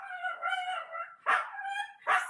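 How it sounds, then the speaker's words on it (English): A dog alternates high whimpering whines with two sharp barks, close and clear with no talking over it. "that's my dog"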